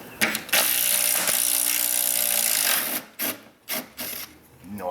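Ratcheting wrench work on a bolt under a Ford Flex near the fuel tank, a sustained loud clicking-grinding burst for about three seconds, followed by several short separate ratchet clicks.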